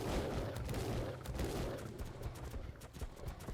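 Gunshots in the video game Ark, a steady run of quick, fairly loud shots with dense game noise beneath, no speech.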